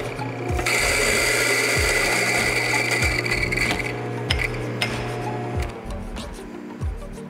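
A coffee grinder grinds 25 grams of coffee beans, a loud steady whirring drone close by with rattling crunches, easing slightly in the second half.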